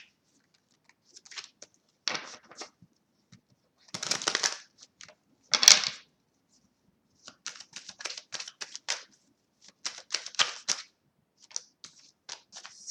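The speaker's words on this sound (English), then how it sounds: "the cards are really spinning as I'm like shuffling" Tarot cards being shuffled up close in short, crisp riffling bursts separated by brief pauses.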